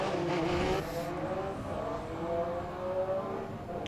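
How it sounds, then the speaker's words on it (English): An MG Metro 6R4 rally car accelerates hard from a standing start at the Goodwood Motor Circuit, its engine note rising through the gears with a brief tire squeal, loud and fairly close. "Terrific acceleration from a standing start."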